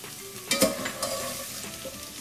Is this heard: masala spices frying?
yes